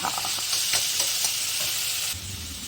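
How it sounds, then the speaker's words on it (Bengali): Taro leaves (kochu shak) being stirred and reduced in a home kitchen pan make a close, bright, continuous sizzle with a few soft scrapes of the spoon, and a low rumble joins near the end. "কচু শাক রান্না প্রায় হয়েই গেছে এখন এটাকে একটু টানাচ্ছি"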